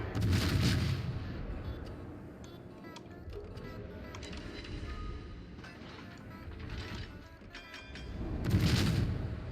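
Warship guns in World of Warships, Tier 9 cruiser battle: deep booming salvos near the start and end with rumbling tails, and fainter distant firing and battle noise rolling through the middle.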